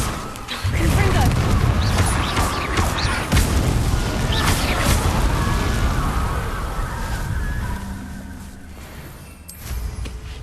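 Confringo spell blast in Hogwarts Legacy, a loud burst of crashing, booming impacts near the start that fades into a rumbling tail, with a voice talking over it.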